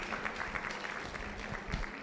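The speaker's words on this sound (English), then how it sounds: "A round of applause once again, ladies." An audience at a girls' school alumni breakfast meeting claps steadily, a fairly faint, continuous patter of applause lasting a couple of seconds.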